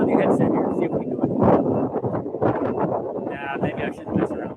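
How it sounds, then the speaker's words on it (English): Wind buffets an outdoor microphone near the SpaceX Starbase main gate at Boca Chica, a loud, continuous rumble that runs through the whole stretch, with a voice faintly mixed in. "Sorry about the wind, though."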